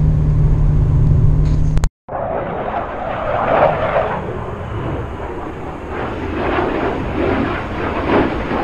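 A car being driven on the road gives a steady, continuous wash of engine and road noise that starts abruptly after a brief cutoff near the two-second mark and carries on evenly with no talk.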